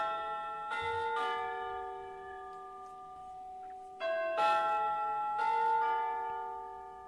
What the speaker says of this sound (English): it is 9:24, which is time for our